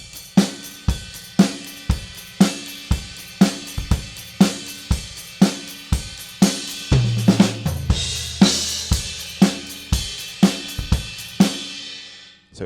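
Drum groove with a left-foot hi-hat closing on the offbeat eighth notes, steady evenly spaced hits over kick and snare, close and clear with no voices.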